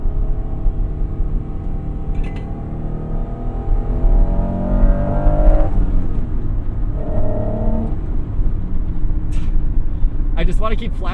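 A 1996 Acura NSX engine is held at full throttle, a loud, close, sustained drone whose pitch climbs steadily as it pulls, with a rough rumble underneath.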